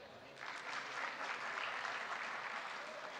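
A conference audience breaks into clapping that starts abruptly and holds as a dense, even wash of applause from many hands in a large room, heard at a distance.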